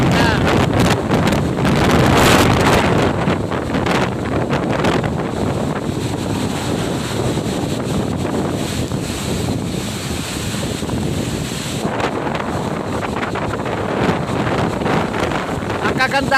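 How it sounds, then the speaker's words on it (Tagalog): Strong wind roars steadily against the microphone outdoors by the sea, with surf and water noise underneath, the gusting loud and continuous throughout, rising in bursts near the start and again toward the end. "Pero yung hangin talaga naman, napakalakas."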